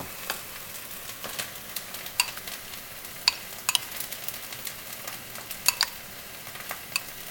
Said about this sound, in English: now we're going to take the salsa and we're going to toss it